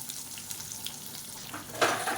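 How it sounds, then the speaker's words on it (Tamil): Onions sizzle in hot oil with asafoetida for sambar, a soft continuous crackle that flares up briefly near the end as the pan is stirred, with no talking. "இப்போ இதில் 1 கை அளவுக்கு வெங்காயம் சேர்த்துக்கலாம்."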